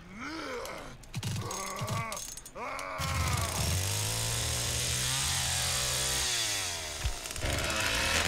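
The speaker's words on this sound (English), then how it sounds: "That's what happens when you charge up your chainsaw and you get the hit." Leatherface's chainsaw revs and buzzes in The Texas Chainsaw Massacre video game after a charged-up hit. Loud, steady engine droning is mixed with groaning vocal sounds and harsh bursts throughout.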